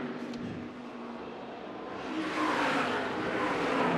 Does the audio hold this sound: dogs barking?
no